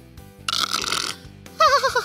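A voice imitates snoring in two short, loud bursts, with a rough, buzzy drawn-out snore and then a wavering, gurgling one, close up with no other talk.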